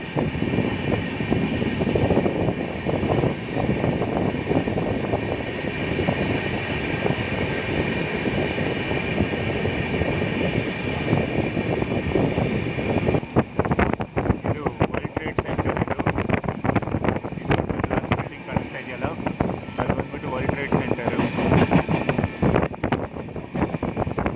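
Janashatabdi superfast express on the Bengaluru to Davanagere route running near Malleshwaram: a steady, loud onboard rumble with wind noise, and sharper wheel clatter and knocks joining in over the second half.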